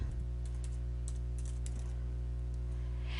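Keys tapped on a computer keyboard while an event title is filled in, a quick scattered run of light clicks over a steady low electrical hum, close and fairly quiet.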